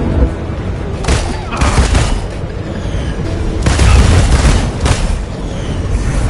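Gunfire and explosive booms from the Marvel's Avengers video game, with loud bursts of shooting and blasts recurring throughout over a dense, busy game soundscape.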